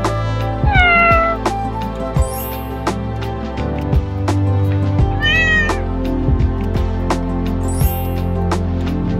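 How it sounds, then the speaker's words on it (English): A cat meows repeatedly, several rising and falling calls spread across the stretch, loud and close over a steady hum of background music. "cat, kitten,"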